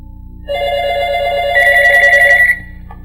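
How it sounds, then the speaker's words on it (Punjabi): A telephone rings in a scene from an old Punjabi film: a loud electronic warbling ring heard alone, shifting pitch midway before stopping. "ਇਸ ਵੇਲੇ ਕਿਹਦਾ ਫੋਨ ਹੈ?"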